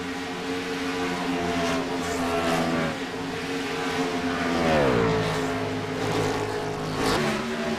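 Race cars lapping Texas Motor Speedway in a racing video game, a loud, steady engine drone whose pitch sweeps down and back up as cars pass close by.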